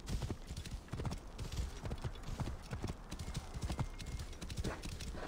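Horse hooves clip-clop in a steady galloping rhythm while riding in the video game Assassin's Creed Origins, the hoofbeats close and continuous over faint background sound.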